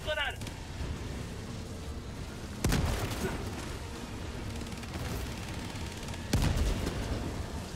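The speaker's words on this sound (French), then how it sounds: "Balance une grenade." Grenade blasts and gunfire in Helldivers 2 against Automatons: two sharp booms a few seconds apart over a constant rumbling battle bed, with faint scattered shots between.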